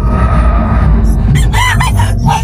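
A gamefowl rooster crows in a drawn-out call at a gamefarm, backed by steady loud background noise and other birds clucking nearby.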